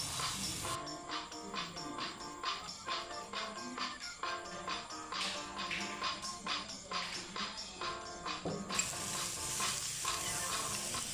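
Oil bubbles and sizzles in a pan, a steady crackling hiss with a faintly pulsing rhythm that continues for the whole stretch, with no talking.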